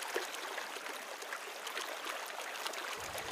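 Steady, broadband rush of river water flowing at the edge of one of the Sundarbans' rivers, close and even-toned for the whole stretch, with no voices.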